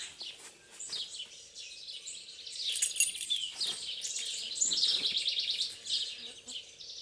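A pet bird chirps indoors in quick, bright bursts of twittering that come and go over a faint background hum, moderately close and fairly soft.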